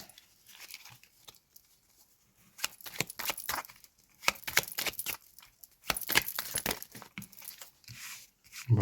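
Playing cards are shuffled and drawn for a card reading, heard as irregular bursts of crisp flicking and riffling clatter separated by short quiet gaps, close and moderately loud.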